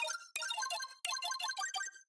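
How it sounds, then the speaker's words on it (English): A bright synth arpeggio layer from a drum and bass track, a quick ripple of high plucked notes in two gated bursts with short gaps between them, heard alone. "And to add more color texture, I added this ARP."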